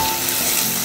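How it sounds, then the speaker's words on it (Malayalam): Curry leaves and finely chopped small onion sautéing in hot oil in a pan, a steady close sizzle with faint stirring scrapes throughout. "കറിവേപ്പില, ഒരു ചെറിയ സവാള പൊടിയായി അരിഞ്ഞത്, ഇത്രയും നമുക്ക് ഇതിലേക്ക് ചേർക്കാം. നമുക്ക് നന്നായിട്ടൊന്ന് വഴറ്റിയെടുക്കാം."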